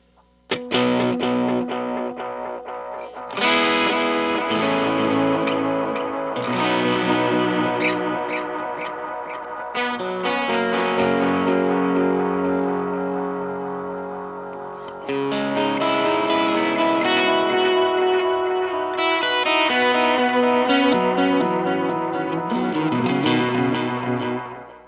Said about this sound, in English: This is the tube echo.